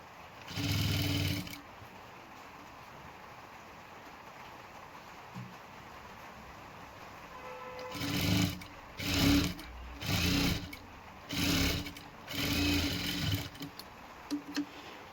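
A sewing machine stitches a princess blouse: a brief run at the start, a long pause, then several short bursts of rapid mechanical whirring close by, with no voices.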